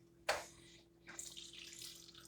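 An Avalon water dispenser has a sharp click, then water starts pouring in a soft, steady stream that runs until the end, quiet and with no talk.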